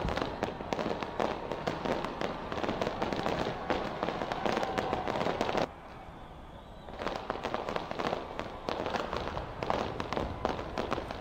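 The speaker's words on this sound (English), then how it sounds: "it did so with a fireworks display from its iconic Sky Tower and harbour" New Year fireworks over Auckland's Sky Tower and harbour, a dense continuous crackle of bursts and pops from a distance, pausing for about a second midway before resuming just as thick.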